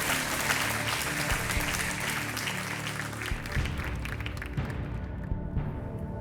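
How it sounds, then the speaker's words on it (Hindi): Audience applause on the KBC Season 9 quiz show welcomes a contestant's partner to the stage. Dense, steady clapping from a large studio crowd fills the whole stretch at an even loudness and fades slightly toward the end. "तालियों के साथ आपका स्वागत करते हैं"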